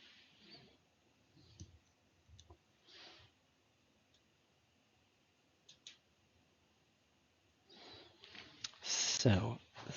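Sparse, sharp mouse clicks while restarting a batch management service on a Dynamics 365 Finance and Operations server, a few soft isolated taps spread across a quiet background with a louder cluster near the end.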